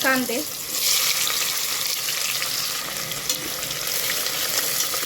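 Cumin seeds and chilies sizzle in hot oil for a hotel-style veg pulao, a steady close frying hiss with a brief burst at the start that settles into a continuous crackle with no talking.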